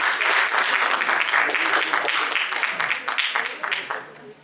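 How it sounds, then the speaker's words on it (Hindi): An audience at a kavi sammelan poetry gathering chaired by Dr. Shlesh Gautam breaks into loud, dense applause that thins into scattered claps and dies away at the end, with some talk mixed in. "एक बार सर के लिए ज़ोरदार तालियां"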